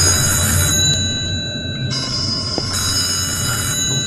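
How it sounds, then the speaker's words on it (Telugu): A phone rings inside a Telugu horror video game. A steady electronic ringing tone with bright, sustained pitches shifts pattern partway through and plays continuously over a low rumbling background. "ఫోన్ వస్తుంది కదా ఇట్లాంటి టైంలో మన ఫోన్లు గిల్లు ఎత్తొద్దు"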